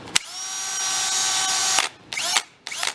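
A Milwaukee power drill with a faulty trigger that won't release whines steadily at high speed for nearly two seconds, then gives two shorter bursts as the trigger is squeezed again.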